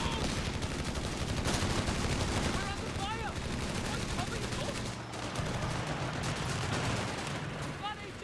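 Heavy machine gun fire and other battle gunfire in Company of Heroes 3, a real-time strategy game, a dense continuous crackle of bursts at moderate level under a commentator's voice.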